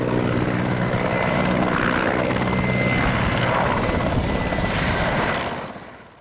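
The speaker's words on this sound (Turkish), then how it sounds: "Yangın söndürme helikopterleri peş peşe hemen havalandı." Firefighting helicopters lift off one after another over a wildfire near the coast, with loud, close rotor chop and engine roar holding steady before the sound fades away at the end.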